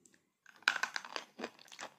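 Crisp crunching bites on a hard snack, several quick chews close to the ear, with no talking.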